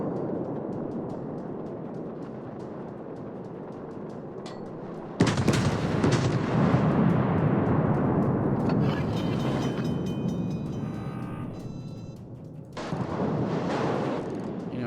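Battleship New Mexico in World of Warships fires a full main-gun salvo at long range: a sudden loud blast opens a long rumbling roar, followed a few seconds later by a second heavy report.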